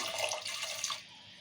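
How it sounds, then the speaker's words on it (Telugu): Water sloshes in a bowl as tomatoes are squeezed by hand for tomato rasam, a steady close splashing wash that eases off toward the end. "కొన్ని వాటర్ పోసి పిసుకోవాలి."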